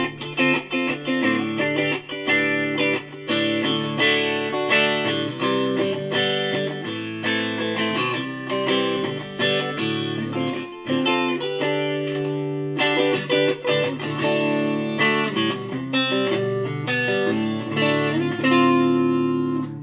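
An electric guitar played through a multi-effects unit with a reverb pedal, distorted chords and notes ringing with a wash of reverb in a steady, continuous passage, no talking.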